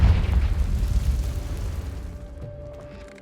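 A Confringo blasting spell bursts in the Hogwarts Legacy video game: one loud, deep explosion that rumbles and slowly fades, with a faint steady tone lingering as the boom dies away.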